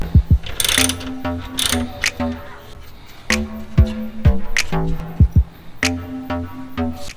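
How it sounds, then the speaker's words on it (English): A ratchet wrench with a 10 mm socket and extension loosens a bolt on a 10th-generation Honda Civic Type R, giving bursts of rapid, loud, close clicking with short pauses and sharp metallic knocks between them. "we use the 10 millimeter wrencher with a ratchet, and we have extensions as well"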